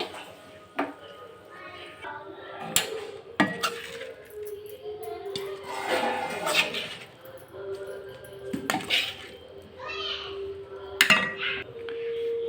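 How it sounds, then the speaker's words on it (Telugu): Chicken fry being served from the pan into a bowl, with scattered metal clinks and scrapes of a spoon against cookware, close and moderately loud, plus brief rustling in between. "ఇప్పుడైతే ఒక బౌల్లో సర్వ్ చేసేసుకుందాం"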